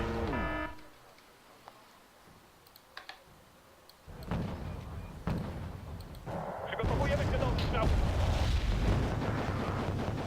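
Artillery barrage in the strategy game Wargame: AirLand Battle, with deep booming rumbles that build into a loud sustained roar of impacts, plus a few keyboard clicks and some speech from a man mixed in.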